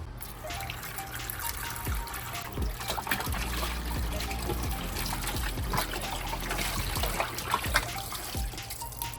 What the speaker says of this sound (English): I'll put a little bit more water on the pork and just wash that around.